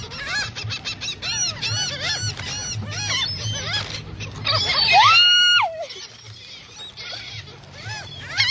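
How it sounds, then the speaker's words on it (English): Many seagulls crowd Clearwater Beach, their calls overlapping in a dense, continuous chorus of squawks and rising cries, with one loud, close, drawn-out call standing out near the middle. "In front of the camera, there are literally seagulls everywhere."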